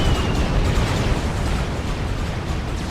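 Napalm bombers in Supreme Commander: Forged Alliance set off a dense, continuous wall of loud overlapping explosions and crackling bursts that roll on with no break and no voice.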